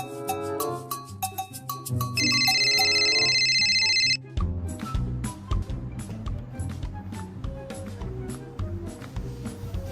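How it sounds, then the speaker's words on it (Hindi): A mobile phone ringtone plays indoors as a melodic tune, with a sustained electronic tone partway through, then the repeating ring continues steadily to the end. "इतनी देर से तुम्हारा फोन बज रहा है"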